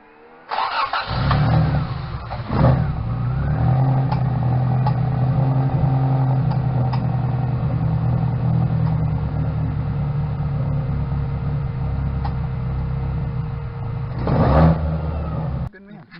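A Toyota 86 engine starts, then settles into a steady, loud idle close by with slight rev flutters, ending in a sharper blip of revs before cutting off.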